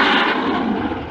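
A broad, steady roar of a plane taking off, a sci-fi sound effect for a robot police aircraft, heard loud and alone for about a second.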